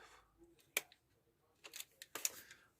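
Small pliers nip the lugs on a Hunt model railway coupling, giving a few faint, sharp clicks and snips in close succession against quiet surroundings.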